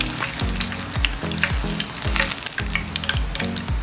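Tofu fries in hot oil in a pan, giving a loud, steady crackling sizzle with rapid pops throughout and rhythmic low scraping knocks from stirring or a utensil, no voices.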